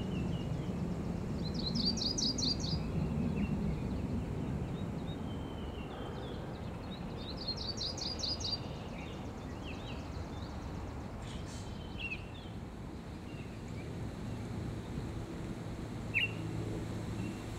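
Spring songbirds, including migrant warblers, sing in a budding forest: two bright trilling phrases near the start, then scattered faint chirps over steady rushing background noise.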